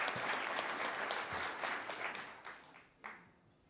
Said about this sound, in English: we'll also give a round of applause